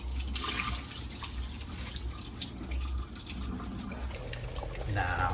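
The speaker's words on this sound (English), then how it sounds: "make sure you wash the rice" Rice being washed in a pot under a running tap, with steady splashing and trickling water and scattered drips throughout, loud and close, with a voice talking briefly over it.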